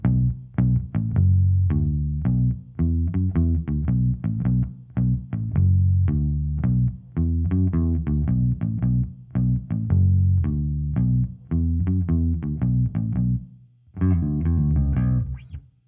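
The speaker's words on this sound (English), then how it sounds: "So that's my clean bass tone." An electric bass played through a clean tone from a band's rig picks out a rhythmic line of sustained, round low notes, loud and alone, ending with a brief brighter flurry.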